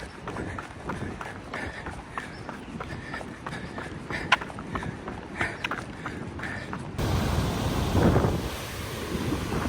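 Continuous roar of water at Niagara Falls mixed with gusting wind buffeting the microphone, loud and steady, growing heavier toward the end, with footsteps from a run faintly underneath.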